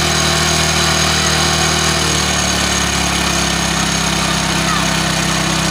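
Hero HF Deluxe motorcycle engine idling while the air-fuel mixture and RPM are adjusted, a loud, steady single-cylinder putter with a constant hum, the pitch dropping slightly partway through as the revs come down.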